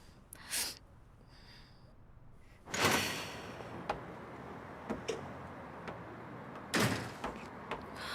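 A door in a home is opened, giving a couple of sharp knocks and clicks followed by scattered small handling sounds and another firm thud near the end, close by and moderately loud with no speech.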